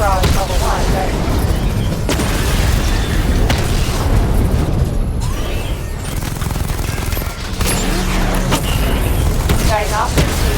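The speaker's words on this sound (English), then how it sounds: "Missile barrage level 1 ready." A missile barrage fired in Batman: Arkham Knight, a continuous loud run of booming explosions and rapid blasts for about ten seconds, with sharp impacts scattered throughout.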